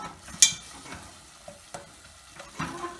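A sauce seasoned with garlic powder is stirred in a pan for tortillas con queso, giving a low sizzle broken by a few scattered scrapes and taps of the utensil, quiet and close.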